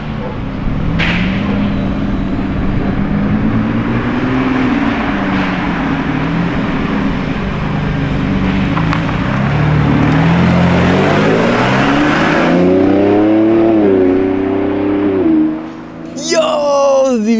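A yellow Lamborghini Revuelto hybrid V12 revs hard and loud close by, its pitch climbing and falling in sweeps over a constant roar, with excited voices talking over it.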